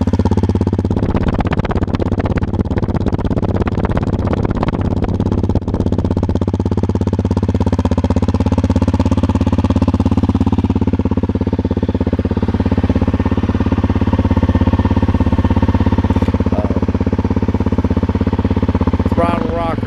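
A Honda CRF250L motorcycle idles with its silencer and spark arrestor removed, giving a steady, loud, close low engine drone throughout with a faint rattle, and someone talks over parts of it.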